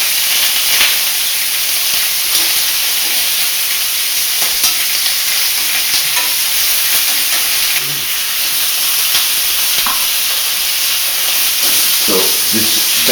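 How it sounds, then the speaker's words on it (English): Pork spare ribs sizzle and hiss steadily as they brown in a hot pan, a loud continuous frying crackle with occasional spits and the clink of turning meat. "So I'm turning the pork over, brown it on the other side."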